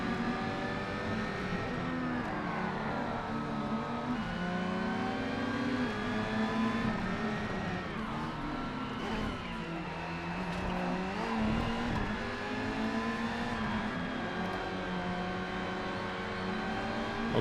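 A race car engine in the video game GRID revs hard and steadily through its six gears, its whine climbing and dropping as the car shifts, loud and continuous throughout with almost no talk.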